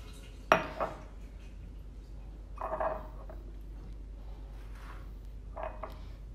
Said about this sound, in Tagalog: sa isang lemon na ganito, medium yung size niya, hinahati ko siya ng 3